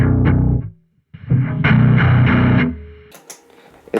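Bass guitar played through an Electro-Harmonix Pitchfork pitch-shifter pedal with distortion, loud fuzzy low notes in two short phrases separated by a brief gap, ending with a few quieter plucks.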